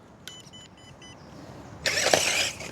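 A Hobbyplus CR18P 6x6 mini RC crawler climbing in second gear: a few faint high electronic beeps, then the small motor whines up loudly and strains for the last second.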